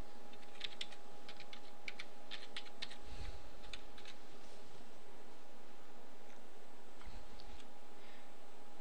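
Someone types a password on a computer keyboard in clustered bursts of light key clicks, fairly quiet over a steady electronic hum, with a couple of soft low thumps.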